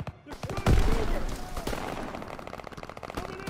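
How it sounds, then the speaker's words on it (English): Bursts of Call of Duty: WWII gunfire crackle at a distance, one heavy blast early followed by a rapid string of shots, with sound effects layered over it. "Gunfire this way. Too risky."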